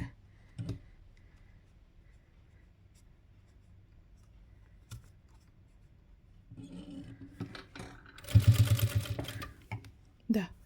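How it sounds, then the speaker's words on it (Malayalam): Fabric layers for a homemade doormat are fed under a sewing machine. Quiet handling clicks and rubbing come first, then a short, loud burst of rapid stitching near the end. "എനിക്ക് വേണ്ട ലെങ്ത്ത് നോക്കിയിട്ട് ഓരോ ലെയറായിട്ട് തയ്ച്ചെടുക്കുകയാണ് ചെയ്യുന്നത്"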